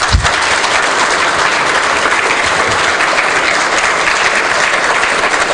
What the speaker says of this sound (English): please give Christina a big round of applause